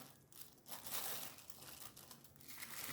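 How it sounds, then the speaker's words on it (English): A plastic bag crinkles and rustles continuously as it is stretched over a bowl of Nigerian puff puff batter, close and soft, with no talking. "So I'm using my plastic bag to cover it."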